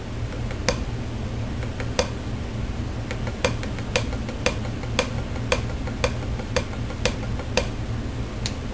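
Drum strokes in a repeating triplet pattern, two soft taps followed by a sharper accented hit, played steadily and close over a faint background hum.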